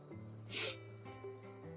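A single quick sneeze bursts out over a quiet room hum, brief and fairly close, followed by soft rustling.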